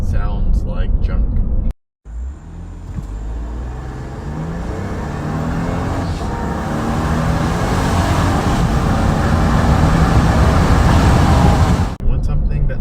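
A Ford F150 XLT engine runs with a steady broadband roar that swells gradually as it revs, briefly cutting out near the start and again near the end.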